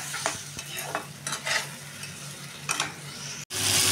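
Stalks cooked with chili and turmeric powder in a pan sizzle and hiss up close, with several bursts of stirring before a brief gap and a louder sizzle at the end.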